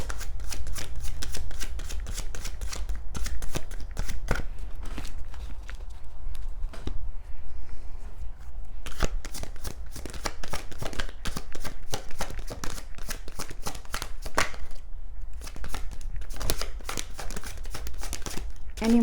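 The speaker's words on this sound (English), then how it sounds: "Let me shuffle just one more time." An oracle card deck being shuffled by hand, close and dry, in long runs of rapid riffling flicks broken by a short pause partway through.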